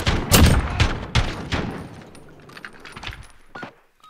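Light machine gun fire in Modern Warfare, a Gunfight Speedball match: a loud burst of close rapid shots up front, then scattered fainter shots and clatter trailing off.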